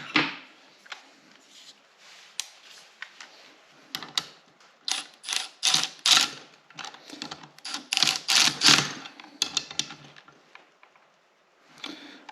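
A ratchet snugs down rocker arm bolts on an LS engine refresh, giving close, dry clicking bursts in irregular clusters separated by short pauses.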